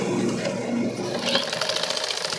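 A sewing machine stitches the hem of men's shorts cut from old trousers, running in one steady, close, continuous whirring buzz with no voices.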